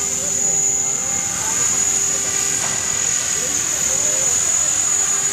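A remote-control helicopter, a CS500 electric model, flies at night over a parking-level flying field, giving a steady high whine with a constant drone throughout, fairly close and even in level.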